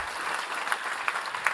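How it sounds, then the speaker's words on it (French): Applause from an audience at a school graduation ceremony, a steady wash of clapping with a few sharper claps standing out, moderately loud and continuous. "J'attendais les applaudissements."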